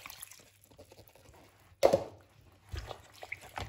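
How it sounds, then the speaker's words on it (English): Water is poured over walnuts in a pot, with faint drips and small splashes, then a sudden louder gush followed by intermittent pouring and trickling, close by, with no voices. "I'm now going to pour in some water to try and cover them"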